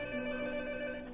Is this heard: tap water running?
no